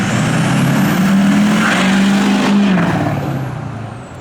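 A diesel truck with an ongoing EGR fault rolls coal, its engine drone swelling and holding loud and steady before easing off toward the end.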